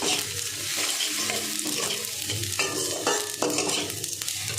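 Spoon scraping and stirring through zarda pulao in a pot as half a spoon of cardamom powder is mixed in, with soft sizzling underneath and irregular scrapes against the pot.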